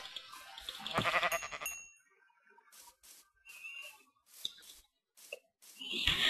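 Sheep in the Minecraft video game bleat in a few short calls, with a loud burst at the start and another at the end and quieter game noises in between.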